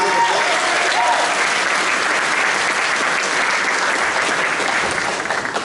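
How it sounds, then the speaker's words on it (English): A large crowd applauding loudly and steadily at a high school jazz ensemble concert, dense clapping that carries on throughout without pause, with a few faint voices mixed in. "give me a round of applause"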